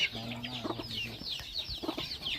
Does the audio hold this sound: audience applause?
no